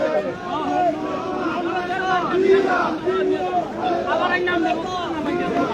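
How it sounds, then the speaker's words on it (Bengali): BNP activists chanting slogans together in a loud, dense crowd, voices rising and falling in steady rhythmic calls that blend into a continuous roar throughout. "এই মুহূর্তে আপনাদেরকে দেখাচ্ছি আসলে স্লোগান দিচ্ছেন এই বিভিন্ন স্থান থেকে আসা"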